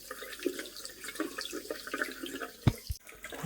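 Hot water runs steadily from a domestic tap supplied by a Baxi Duo-tec combi boiler, a soft continuous splash with a couple of sharp knocks near the end and no talking.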